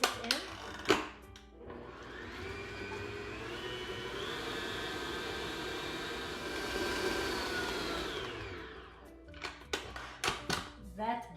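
An electric mixer whirs steadily for several seconds, beating brandy into hazelnut cookie butter, with kitchen clatter and talk before and after the run.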